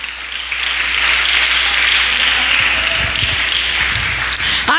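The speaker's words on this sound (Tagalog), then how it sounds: "Palakpak." Congregation at a church midweek service clapping together, a dense steady wash of applause that holds for several seconds at fairly close range with no talking over it.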